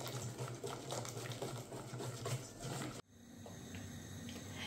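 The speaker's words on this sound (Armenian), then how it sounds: "Եվ այսպես կաթը լավ եռում է արդեն" Milk boiling in a pot on the stove for a honey cake custard, a steady bubbling hiss for three seconds, then abruptly quieter simmering once the flame is lowered.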